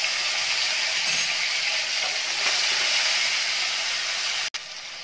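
Chopped tomato and asafoetida frying in a pan for a chickpea ghugni make a steady, loud sizzle and hiss throughout, with faint stirring and a brief dropout near the end.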